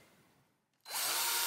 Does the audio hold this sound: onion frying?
no